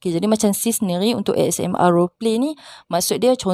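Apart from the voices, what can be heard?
None of the usual background noises is heard.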